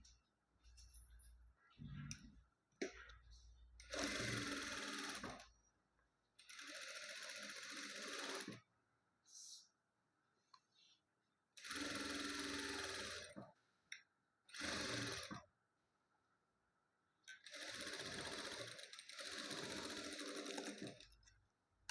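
Sewing machine stitching a blouse in several loud, close bursts of rapid whirring, separated by quiet pauses with faint handling clicks.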